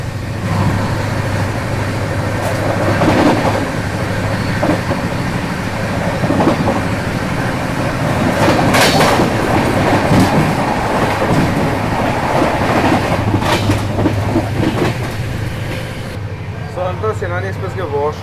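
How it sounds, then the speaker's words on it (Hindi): Netaji Express train rolling past at close range, a steady loud rumble of wheels and carriages, with people talking over it, before the noise drops away near the end. "सामने से देख लीजिए नेताजी एक्सप्रेस आ रही है।"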